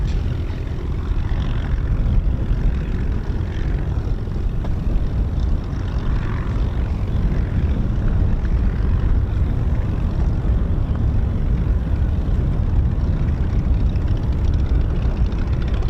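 Propeller-driven Spitfire and Hurricane fighters fly a Battle of Britain Memorial Flight display at RAF Coningsby, with a loud sustained engine drone and steady low-end roar that holds throughout, with no voices.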